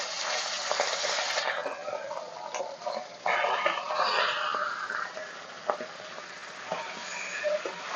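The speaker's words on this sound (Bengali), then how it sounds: "এখন মাংসগুলো হালকা করে ভেজে নেব।" Chicken pieces lightly fry in a pan, giving a steady nearby crackling sizzle broken by small ticks and stirring scrapes, with occasional louder bursts.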